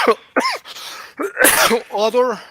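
A single sharp sneeze bursts out between stretches of casual conversation, close and loud, with people talking just before and after it.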